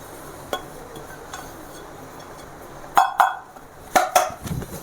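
Masala noodles being mixed in a pan with onion and tomato: a quiet bed of low noise with faint taps, then several sharper metallic clinks and scrapes of a utensil against the pan near the end, close by.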